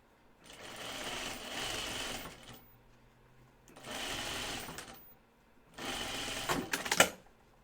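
A sewing machine stitches fabric in three loud, rapid bursts separated by brief pauses, the needle's whirring chatter close by, while drafting a sleeve block.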